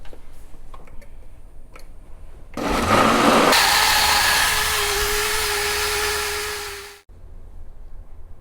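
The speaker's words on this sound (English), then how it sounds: "we're just gonna blend this until it's nice and smooth" Blender whirs up suddenly and runs loud and steady for about four seconds, pureeing chiles, garlic, pepper, vinegar and water, then winds down and stops, with faint ticking before and after.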